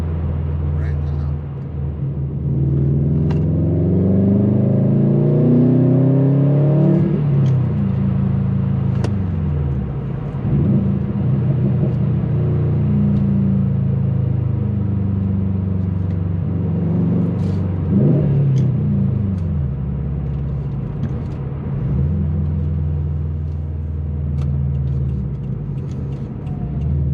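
A 2015 Subaru STI engine pulls hard under turbo boost up to about 10 psi, loud and close, with rising and falling rev sweeps through several gear changes and an in-car voice talking over it.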